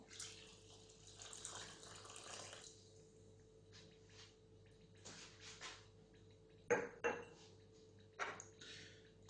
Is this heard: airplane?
no